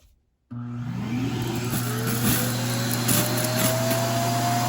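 A loud suction motor of an iRobot Roomba i3+ dock emptying the robot vacuum's bin starts abruptly and spins up, its whine rising steadily to a constant roar, close by.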